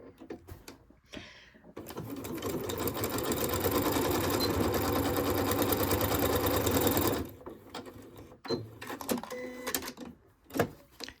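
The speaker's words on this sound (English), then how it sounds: "put it under your sewing machine needle, and I'm just going to zigzag on the end here" A sewing machine runs steadily for several seconds, a fast continuous mechanical whir of zigzag stitching, preceded and followed by brief handling noises.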